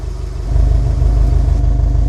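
Deep, steady idle of a Subaru WRX STi's 2.5-litre flat-four boxer engine, close and loud, with a rhythmic low burble that swells slightly after the first half second.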